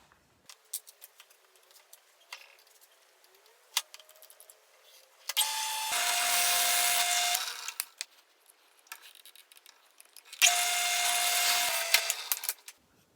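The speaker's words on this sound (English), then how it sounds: "So let's use our 1/2-inch Forstner bit to do this." A 1/2-inch Forstner bit bores into a wooden block for a DIY barbell rack, in two close, steady drilling bursts of about two seconds each, with light handling clicks between and around them.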